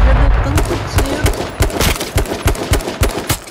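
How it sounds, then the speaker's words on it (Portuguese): Rapid gunfire from the video game H1Z1 rattles in loud, repeated bursts and single sharp shots, close and continuous for the whole stretch. "Ele tá dando tanto tiro"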